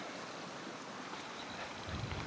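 Water flows in the Lesmurdie Brook on a hillside gully, giving a steady broadband rush with a slightly louder swell near the end and no voices.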